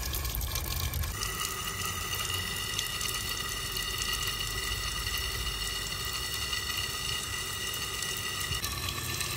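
Steady running water splashes continuously throughout, like a tap flowing over crucian carp being rinsed in a sink, close and fairly loud.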